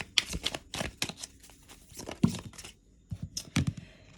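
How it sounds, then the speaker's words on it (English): Slippery tarot cards being shuffled by hand, a series of crisp riffling bursts and papery slaps with short pauses between, close and fairly quiet with no talk. "I'll give these a good shuffle."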